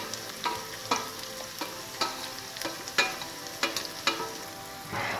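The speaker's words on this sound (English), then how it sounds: "After it turns golden brown, add the diced potatoes." Diced potatoes and green chilies frying in a pan, a continuous close sizzle punctuated by regular scraping strokes of a spatula about once a second.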